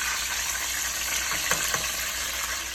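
Breaded chicken fries in oil with a loud, continuous hissing sizzle, broken by a couple of brief pops and crackles partway through.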